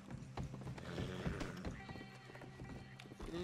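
Horse hooves clip-clopping with a whinny in Red Dead Redemption 2 Online on PC, a steady rhythm of mid-level steps mixed with game ambience and faint voices in the background.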